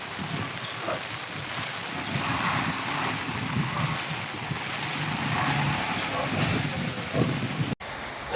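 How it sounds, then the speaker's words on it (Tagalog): Steady, roaring typhoon wind buffets the microphone throughout, a broad rushing noise with low rumbling gusts, cutting off abruptly near the end, in Manila. "Lakas ang hangin."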